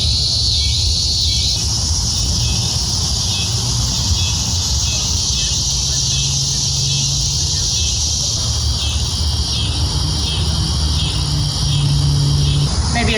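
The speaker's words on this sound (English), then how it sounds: "Besides the cicadas, maybe?" Cicadas buzz continuously outdoors at dusk in a dense, steady, high-pitched drone, with a low rumbling background and faint squeaks underneath.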